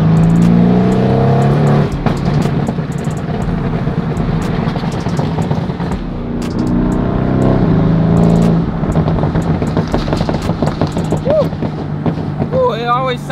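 Mercedes-AMG car engine revving outdoors, its sound echoing off nearby trees: a loud, sustained close roar rising and falling over several seconds.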